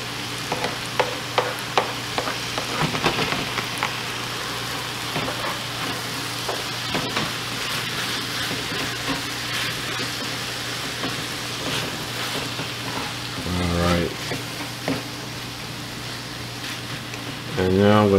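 Green onions and tomatoes fry in a pan with a constant loud sizzle, punctuated by a few knocks of a utensil early on and scraping stirs near the end.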